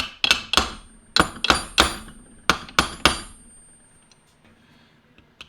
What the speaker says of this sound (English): Just tap this back on.